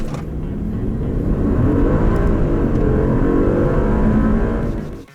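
Maserati Quattroporte Trofeo accelerating hard, its engine revving loud and close in a sustained rising roar that climbs through the gears before cutting off abruptly at the end.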